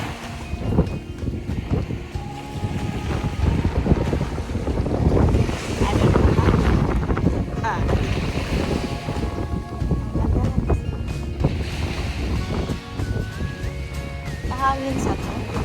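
Steady wind buffeting the microphone outdoors by the shore, a constant loud rush with faint surf beneath and occasional voices mixed in.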